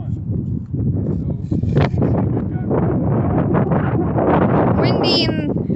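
Strong, steady wind buffets the microphone with a low rumble, while a person talks over it throughout.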